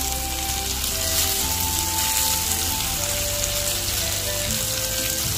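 Terasi shrimp paste sizzling and frying in hot oil, a steady close crackle and hiss running throughout with no talk.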